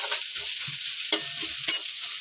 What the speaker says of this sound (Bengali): পেঁয়াজটা চলো তাহলে ভেজে নিই ভালো করে